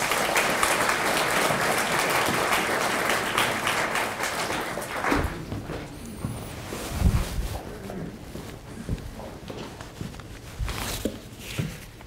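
An audience breaks into steady applause to welcome speaker Rami Khouri at a talk, loud and sustained at first, then thinning into scattered claps and a few footsteps and thumps.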